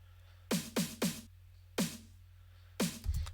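Five dry, sharp handclap hits with no reverb tail, three in quick succession, then a pause, one more, and a final clap over a low hum.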